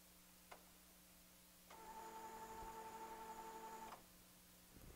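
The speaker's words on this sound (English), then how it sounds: "The printer is now doing a head cleaning." An Epson sublimation printer runs a head cleaning, giving a single faint tick followed by a steady mechanical whir with a clear tone that lasts about two seconds and then stops, under quiet room hum.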